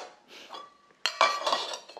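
Metal camping cookware bowls, rice and soup bowls from a nested set, clink and clatter as they are handled, starting with soft knocks and then a burst of bright ringing contacts up close.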